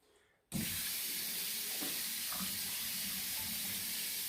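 A touchless bathroom sink faucet switches on abruptly after a moment of near-silence, then pours in a steady, close, unbroken hiss of running water.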